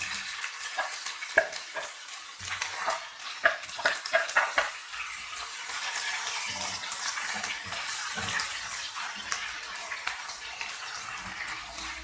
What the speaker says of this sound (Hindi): अब यहाँ पे प्याज को मैं लाइट सा ब्राउन करूंगी